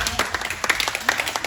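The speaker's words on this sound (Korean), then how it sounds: "박수." A church youth group claps together briefly during a worship gathering, a short burst of scattered hand claps with uneven rhythm.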